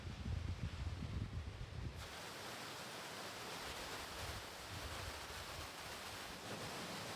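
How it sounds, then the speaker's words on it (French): Steady, broad rushing water from an artificial waterfall in Romania roars continuously nearby; a louder rumbling burst at the start gives way to an even hiss. "très jolie cascade, même s'il n'y a rien de naturel"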